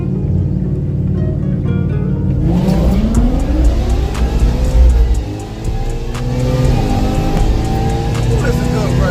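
Chevrolet Caprice police car and Coyote Mustang drag race heads-up, loud engines revving and roaring continuously with rising pitch as the cars launch and accelerate, under excited talking from nearby spectators.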